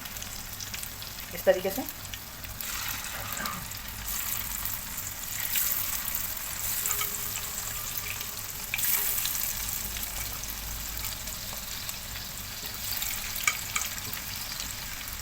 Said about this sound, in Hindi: चिकन फ्राई कर ले आप लोग इसके अंदर अच्छे से